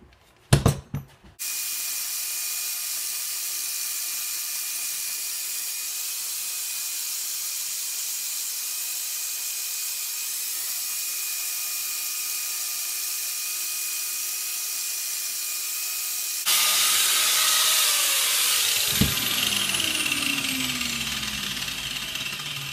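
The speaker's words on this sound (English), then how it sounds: "I'm going to sand it a little bit to get some of the, you can see the machine marks in it" A sanding disc grinds steadily against a steel blank for a Marshall tactical tili knife, a continuous loud hiss running unbroken for about twenty seconds and turning harsher and louder near the end.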